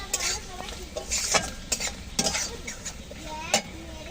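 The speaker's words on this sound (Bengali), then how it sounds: "নারকেল সুন্দর করে একটু লালচে করে ভেজে নেবে নারকেল" Grated coconut frying in a pan until reddish, for a tempering in mung dal vegetable khichuri, with a steady close sizzle and repeated scraping stirs of a spoon against the pan.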